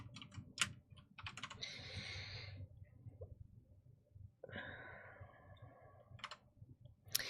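Quick bursts of typing on a computer keyboard during a coding session, close-up clicks and key clatter in irregular runs with pauses between, faint and with no talking.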